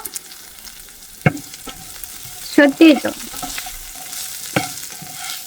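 Food fries quietly in a pan with a soft background sizzle, broken by a few sharp scraping stirs and clacks of the spatula, and a voice briefly speaks.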